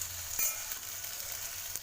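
Mixed vegetables, including potato, frying in oil in a pan for a lunch-box dish, giving a steady close hiss with faint scraping from stirring throughout.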